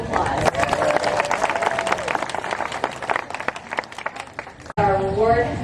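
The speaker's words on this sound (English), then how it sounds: "Let's give her a round of applause." A zoo crowd claps for Daisy, an animal in a training demonstration, with brisk clapping under voices and cheering, then a sudden cut to nearby talking.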